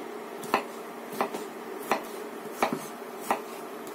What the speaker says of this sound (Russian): Нарезаем картофель.